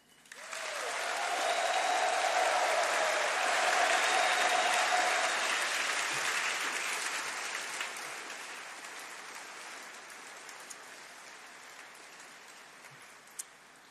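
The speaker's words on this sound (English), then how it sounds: "Let's give them, graduands, a huge round of applause and a very loud cheer to say thank you" Loud applause and cheering from a graduation ceremony audience for the graduands, a thick roar of clapping that swells within the first second, holds strong for several seconds, then slowly thins out.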